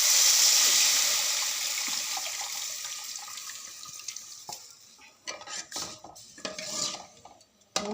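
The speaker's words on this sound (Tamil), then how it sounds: "புளி ஊற்றலாங்க." Tamarind water is poured into a hot cooking pan with a loud rushing hiss that fades, followed by scattered clinks and scrapes of a utensil against the pan.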